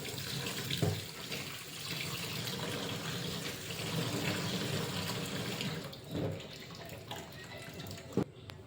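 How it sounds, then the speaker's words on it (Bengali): Pabda fish are rinsed in clean water under a running tap in a sink: a steady close gush of flowing water with a few brief clunks and splashes. "এবার পরিষ্কার জলে 4-5 বার ধুয়ে নিতে হবে।"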